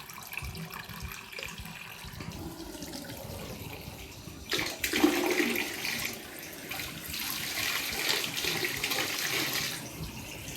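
Water poured into a toilet bowl onto a stubborn mark, a soft trickle building to a louder, steady splashing gush that runs on for several seconds at close range, with no talking.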